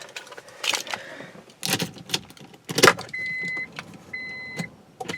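Car keys jangle in several short metallic bursts as a key is fitted into the ignition of a parked car, followed by steady electronic chime tones.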